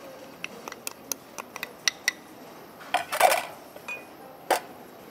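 Chopped onion tipped into a pot alongside potatoes for Carinthian Kasnudeln: a light scatter of small clicks and taps, then a brief rustling clatter as the pieces drop in, close and fairly quiet.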